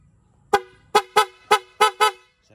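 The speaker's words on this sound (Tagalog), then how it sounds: "Parinig ko muna sa inyo yung busina." Six sharp, loud beeps from an aftermarket horn on a Kawasaki Z1000R motorcycle sound close by in an uneven rhythm, each short and bright, with no talking.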